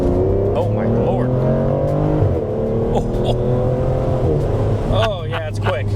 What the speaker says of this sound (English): it is a 6-liter V12 with 568 horsepower